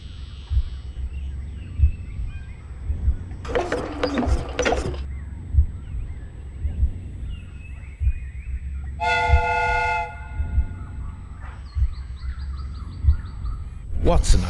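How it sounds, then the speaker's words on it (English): A steam whistle on a replica train in a Sherlock Holmes video game sounds twice, each a bright, sustained harmonic blast, amid chuffing train noise, mechanical clanks and bursts of hissing steam. "The steam whistle is ready to be used."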